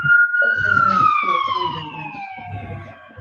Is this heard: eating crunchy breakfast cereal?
no